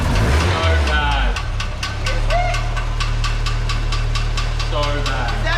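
Idling car engine with a rod knock, a steady close rumble carrying a sharp, evenly spaced ticking knock throughout, with people talking over it at the start and end.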